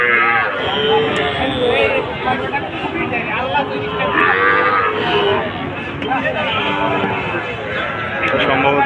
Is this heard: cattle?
yes